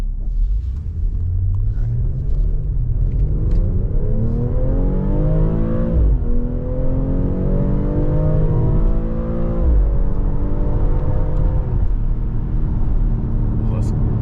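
A BMW X3 M40i engine accelerates hard up a metered on-ramp, its smooth, loud rev climbing steadily through the gears with a deep rumble. The pitch dips at each shift and then rises again.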